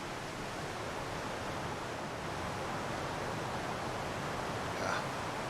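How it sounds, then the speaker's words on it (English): A waterfall in a video game gives a steady, even rush of broadband water noise that holds unchanged from start to end, with a faint brief tone near the close. "Sounds like the waterfall again."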